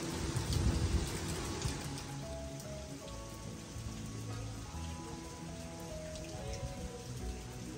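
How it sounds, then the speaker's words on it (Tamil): Steady rain falls outside a home kitchen, a dense, even patter of drops on surfaces lasting throughout with no voices. "நல்லா சூப்பராக மழை வந்துருச்சு"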